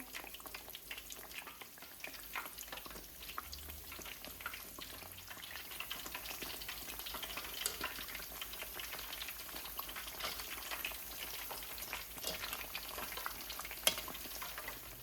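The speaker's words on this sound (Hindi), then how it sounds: "पाँच मिनट इनको फ्राई कर लिया।" Chicken kebabs frying in oil until golden with a steady, soft crackle and sizzle that runs without a break and with no voices.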